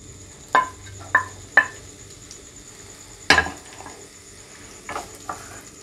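Finely chopped onions dropped into medium-hot ghee in a pan, heard as several sharp clinks and scrapes of a spoon against the pan over a faint, low sizzle.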